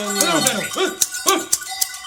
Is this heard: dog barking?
yes